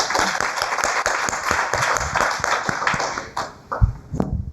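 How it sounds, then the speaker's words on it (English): An audience claps to welcome a product development panel at a tech meetup, a steady round of applause that tapers into a few last claps and brief talk. "I want to give a big applause to just welcome them"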